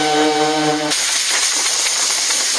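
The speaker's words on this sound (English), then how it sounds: "What I'm gonna do is take my DA through here and trim this rough area up a little bit." A DA sander trimming rough glued plastic on a cracked bumper, a loud steady whirring hum that shifts into a dense, hissing abrasive grind partway through, close and unbroken, no voices.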